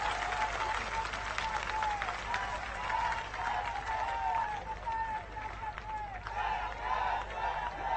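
A crowd at a political function in Mumbai applauds steadily, sustained clapping from many hands that holds level throughout, with a voice over a loudspeaker speaking on top of it.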